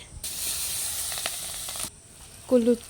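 Chopped onion and chili hit hot oil after frying fish, giving a loud, steady sizzle that runs for about two seconds and then fades.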